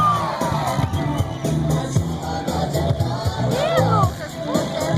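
Spectators at a regional motocross final in Gaúcha do Norte, Mato Grosso, cheer and shout in a continuous crowd roar, mixed with a nearby announcer's voice and amplified music.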